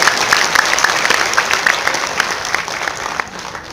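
An audience claps at a poetry recitation, a dense burst of handclaps that is loud at first and gradually thins out over a few seconds.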